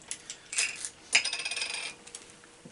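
Purple translucent mini dice with white lettering spill out, making a brief, light clatter of small plastic pieces tumbling and settling close by.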